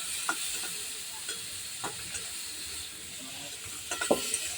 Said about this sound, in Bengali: আমরা চিংড়ি মাছটা লাল লাল করে ভালোভাবে ভেজে নেব।